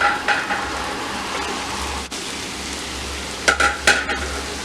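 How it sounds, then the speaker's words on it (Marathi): Chopped tomatoes sauté in a pan over onions already browned for sambar, giving a steady frying hiss with a few sharp spatula scrapes near the end and no talk. "टोमॅटो परतून घेऊया."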